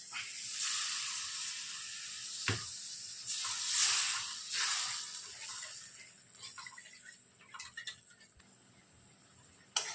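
Fried mustard and poppy seed paste, with a little water just added in the pan, gives off waves of steamy hissing that ease into a quieter sizzle, punctuated by a single knock and a few light stirring taps.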